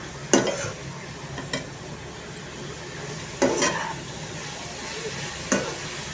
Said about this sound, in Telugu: ఇందులోనే కొంచెం కొత్తిమీర, కరివేపాకు వేసి దీన్ని బాగా కలపండి